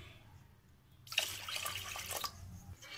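Half a glass of water is poured into a gram flour kadhi batter, a soft close splashing pour that starts suddenly and runs for about two seconds.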